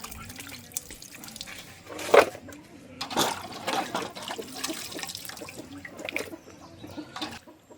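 Tap water runs steadily while chicken meat is washed in a kitchen sink for chicken rice, with a louder splash midway and some clattering throughout.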